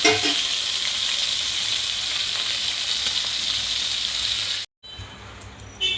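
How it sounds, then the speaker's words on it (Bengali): Tangra fish frying in hot oil give off a loud, steady sizzle that fills the space, then cuts out abruptly for a moment before resuming more softly. "এই যে মাছগুলো সব ভেজে নিলাম"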